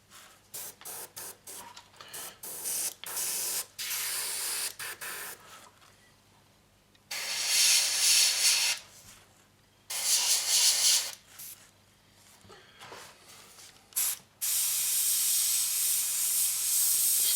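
Airbrush spraying Mission Model paint in short bursts of hiss, several quick taps early then longer sprays of a few seconds each separated by quiet gaps, close and steady.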